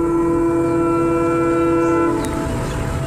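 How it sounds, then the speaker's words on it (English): A fast-approaching train blares a loud, sustained horn that holds steady for about two seconds and then cuts off, leaving the rumble of the train running underneath. "the train, fast approaching, starts blaring its horn to warn them to get the heck out of the way"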